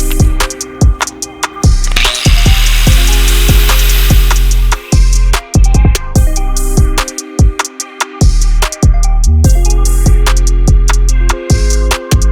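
A power tool cuts through the rear bumper of a Honda Civic EG that is being turned into a race car. The cutting is loud and close, a harsh grinding rasp broken into uneven bursts and pauses.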